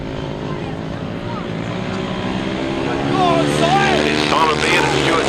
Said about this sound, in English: Side by side as they go past here, and Kevin Ashley didn't want to let him